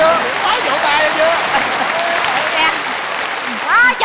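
Audience applause at a Vietnamese comedy stage show, a steady wash of clapping that holds loud for about four seconds, with a voice or two breaking through near the end.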